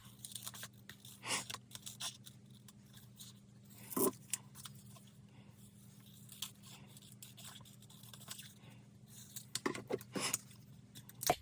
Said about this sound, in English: we'll cut this out with the scissors to start off with